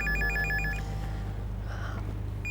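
An old-style landline telephone rings in a home, its electronic warbling bell repeating steadily and loudly over a low background hum, with no one speaking.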